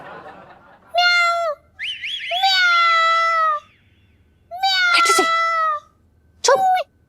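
A voice imitates a cat, letting out four drawn-out, wavering meows with short pauses between them, close and loud.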